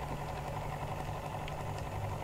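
A gentle engine idles at low revs with a steady, even hum and a soft low drone. It sounds close, with no voices over it.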